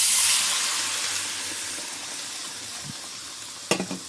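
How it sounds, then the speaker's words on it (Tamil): Cooked dal poured into hot tempering for paruppu rasam, giving a loud burst of sizzling that fades to a softer steady fry, ending with a couple of quick utensil knocks. "போட்டுட்டு பருப்பை ஊற்றுறேன்."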